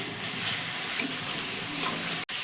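Grated ginger sizzling in a hot frying pan, a loud, even hiss that runs throughout and cuts out briefly near the end.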